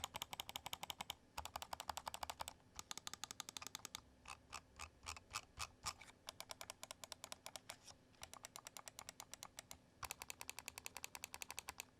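Crisp, rapid clicking of BenQ ZOWIE DW gaming mouse buttons, sharp close-up ticks in bursts and evenly spaced runs with short pauses between groups, quiet and alone.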